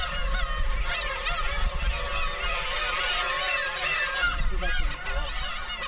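A colony of adult black-tailed gulls cries out while attacking an intruding chick near the nests, with many harsh, overlapping mewing and honking calls that keep up continuously and loudly, close by.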